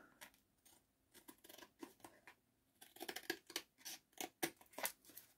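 Scissors snip through packaging paper while a pocket with a belly band is being crafted, a run of close, crisp cuts that starts sparse and quickens into a dense, louder burst of snips in the second half.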